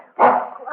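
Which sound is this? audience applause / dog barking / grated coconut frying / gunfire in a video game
dog barking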